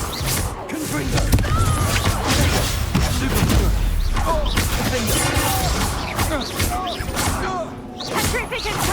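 Spell combat from the Hogwarts Legacy video game: repeated Confringo blasts crackle and boom alongside whooshing spell effects in a dense, continuous barrage, with voices calling out during the fight.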